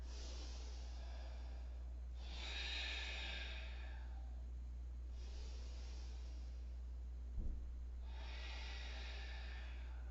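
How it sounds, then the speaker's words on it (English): Three slow, deep exhales during a breathing exercise, each a long airy whoosh lasting a couple of seconds, set against a steady low electrical hum, quiet and close. "Exhale, exhale, really using my core."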